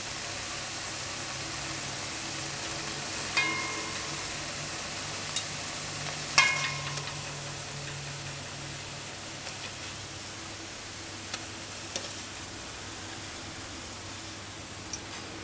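Ripe plantain frying in a pan, a steady soft sizzle running throughout with a few faint clicks and taps of utensils, no voices.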